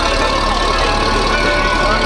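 Engine of a Porsche 997.2 pulling away at a Porsche gathering in Malaysia, a steady loud low rumble throughout, with crowd noise around it.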